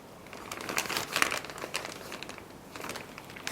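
Baking parchment paper crinkles and rustles in close, irregular bursts, loudest in the first half, while churros are being prepared. No one speaks.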